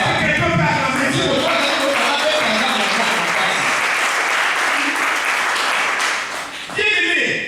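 A church congregation breaks into loud, sustained applause to acclaim God. The dense clapping fills the space for several seconds, then fades before a voice comes back in.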